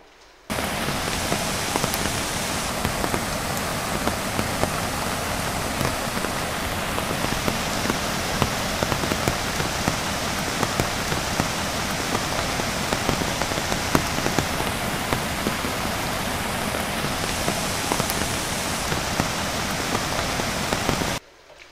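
Heavy monsoon rain falls during days of flooding around Khed, Chiplun, Rajapur and Sangameshwar, a dense, steady downpour that hisses and patters on surfaces without pause for over twenty seconds, with no voices.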